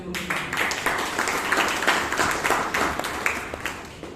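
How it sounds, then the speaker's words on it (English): A Toastmasters meeting audience in Bangalore applauds, a dense patter of many hands clapping at moderate volume that swells and then tapers off over a few seconds. "please give us a good round of applause"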